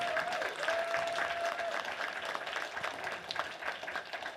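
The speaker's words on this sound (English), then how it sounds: "a round of applause for our staff" A convention crowd at closing ceremonies applauds steadily for several seconds, dense clapping at moderate distance without a break.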